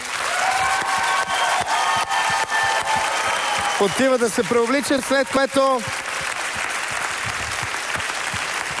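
Audience applause after a waltz performance on a Bulgarian celebrity dance show, continuous dense clapping throughout, with a host's voice speaking over it in the middle.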